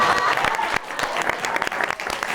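An audience at a live talk-show taping applauds: dense, continuous clapping from a crowd, loud and fairly close, with a voice faintly mixed in.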